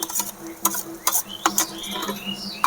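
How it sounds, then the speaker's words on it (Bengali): Grated boiled potato tipped into a pan with turmeric and spices, giving a run of sharp scraping and clinking spoon strokes against the pan over a soft sizzle, close and fairly loud with no talking. "গ্রেট করে রাখা সেদ্ধ আলু এবার আমি দিয়ে দেব"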